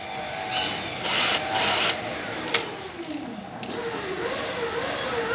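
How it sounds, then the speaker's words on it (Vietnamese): A Rockwell drill drives a screw in two short, close whirring bursts, followed by a sharp click and quieter low-level handling sounds. "Mình sẽ thử bắt vít của khoan."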